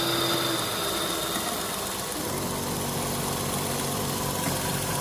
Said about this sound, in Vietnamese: rồi mình cho nổ máy tiếp